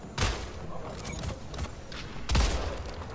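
Shotgun blasts in the arena shooter Splitgate, two heavy booming shots spaced about two seconds apart, with faint mechanical clicks and clatter in between and no talking.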